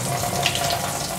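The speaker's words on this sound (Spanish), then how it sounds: "ya está bien el grifo, ya sale el agua bien, puede lavar sus platos, sus ollas" Water runs steadily from a repaired kitchen faucet, a continuous broadband rush with no pauses over a brief stretch, fairly close and alone without talk.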